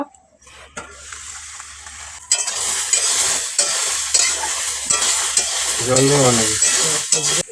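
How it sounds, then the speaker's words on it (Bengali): A spatula stirs vegetables frying in a pan that has just been uncovered, scraping steadily over a continuous sizzle. A brief voice-like sound rises near the end. "আবারও ঢাকাটা খুলে একটু নেড়ে দেব।"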